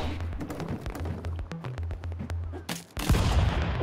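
Rapid pistol shots from a cartoonish stick-figure brawler game crack out in a dense, irregular string over a low game tone, ending in a louder burst of noise near the end.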